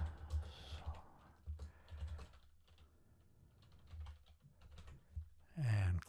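Quick bursts of typing on a computer keyboard while a note is entered into a stock portfolio tracker, the key clicks close and fairly quiet, in irregular clusters with short pauses and a louder clatter near the end.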